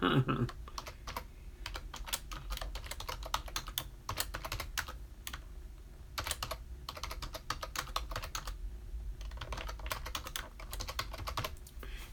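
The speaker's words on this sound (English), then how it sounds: "I was typing and I wasn't even in the right spot on it to type." Rapid, continuous clatter of keys on a computer keyboard, close and busy, with brief pauses between bursts of typing.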